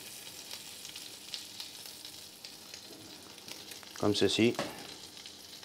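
Shrimp sear and sizzle in a hot pan, a steady crackling hiss throughout, with a brief louder burst of voice midway as someone speaks over the cooking.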